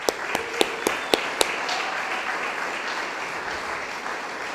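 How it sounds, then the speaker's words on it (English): Audience applause at a city's state of the city address, honoring a newly sworn-in police chief: a few loud, sharp nearby claps stand out at first, then blend into a steady, even wash of clapping from the crowd. "I think that deserves a round of applause."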